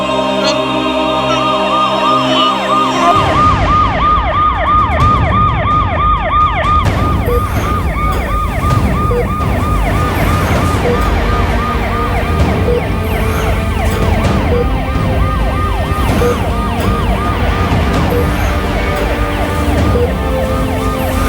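An ambulance siren wails loudly and continuously, its rising and falling tone repeating for about twenty seconds over traffic noise, with no one speaking.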